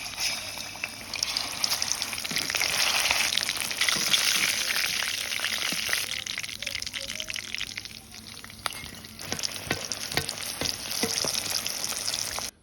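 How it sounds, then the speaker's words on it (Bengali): Marinated chicken chaap fries in oil in a village kitchen, giving a steady, fairly loud broadband sizzle that swells in the first half and then thins into crackling pops, with no talking. "এখন তৈলে ভেজে লমু।"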